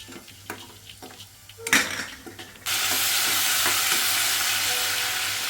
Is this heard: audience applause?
no